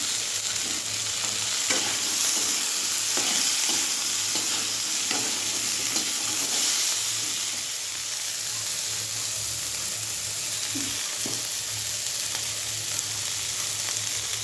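Cumin seeds sizzle in hot oil as a fish head fries and is stirred, a steady loud crackle with occasional scraping, close and continuous with no talking.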